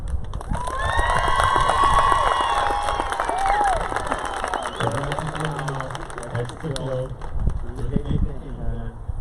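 A graduation audience at Trinidad High School cheers and applauds, with whistles and shouts over steady clapping at first, then the noise fades as a voice begins speaking over the thinning crowd.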